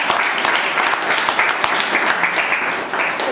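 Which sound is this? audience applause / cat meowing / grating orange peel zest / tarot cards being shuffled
audience applause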